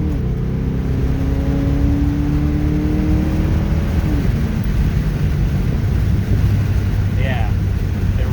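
A tuned Ford Crown Victoria's engine roars and accelerates hard as the transmission kicks down, a steady loud rumble with rising engine tones, people talking over it inside the cabin.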